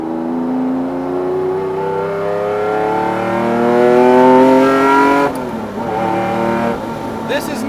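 Lamborghini Diablo SVR, the factory's first race car, roars loudly from close by as its engine climbs through the revs in a rising sweep, then lifts off and drops back before pulling again.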